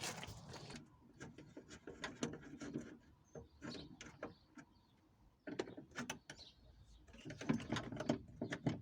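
Screws being backed out and a door lock module pulled from a VW Golf MK4 door, with dense clicky mechanical rattles, scraping and plastic knocks close by, pausing briefly midway before busy handling resumes.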